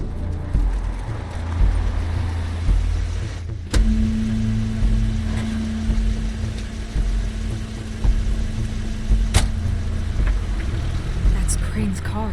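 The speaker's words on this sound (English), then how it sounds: "That's Crane's car" Car engine in the video game The Wolf Among Us, a low steady rumble running under voices throughout, joined by a sustained idling hum from about four seconds on, with scene music and dialogue over it.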